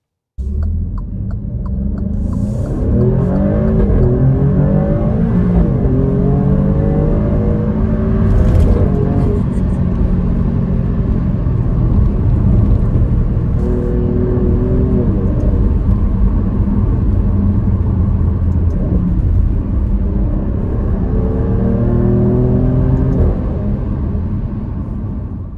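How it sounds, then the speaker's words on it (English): A 2021 Alfa Romeo Stelvio Quadrifoglio SUV, facelift model, pulls away hard, its engine rumbling loud and close with rising tones through the gears, a sustained strong roar. "so that you can fully appreciate the sound of this car. And we're going to do a quick pull off"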